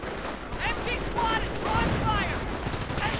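A .30 caliber machine gun fires during a Company of Heroes real-time strategy battle, with rapid overlapping gunfire bursts under constant battle noise and talk.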